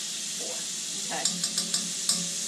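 Minced garlic sizzles in a pan over medium heat with a soft, even hiss, and a short run of five quick, regular utensil taps and stirring clicks comes near the end.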